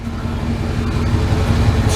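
Old Chevy Tahoe engine running after a new starter and battery, a steady low idle rumble heard close by, fairly even in level with a faint rise toward the end.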